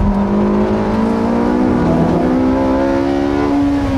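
An all-wheel-drive race car accelerates hard out of a turn on a track, engine note rising steadily and loud from inside the cockpit, with a strong continuous drone and no break across the pull.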